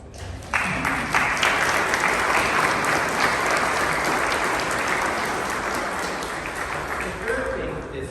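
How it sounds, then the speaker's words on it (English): An audience at the grand opening of a Contra Costa County fire station breaks into sustained applause, a dense, even wash of many hands clapping that holds steady before tapering slightly. "You can applaud for that."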